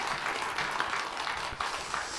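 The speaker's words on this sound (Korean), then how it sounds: "우리 하나님께 박수로 영광 돌리겠습니다" Steady applause from a large church congregation, a continuous wash of clapping lasting a couple of seconds at moderate loudness.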